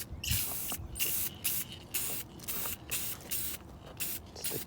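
Aerosol spray paint going onto parts for a blown big block Chevy coupe in several short hissing bursts with brief gaps between, close and fairly quiet, with no talking.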